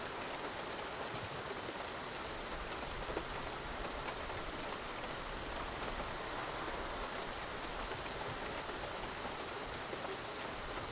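Simulated rain in the X-Plane flight simulator, a dense, even hiss of rainfall pattering on surfaces that holds steady and unbroken for the whole stretch, with no voices.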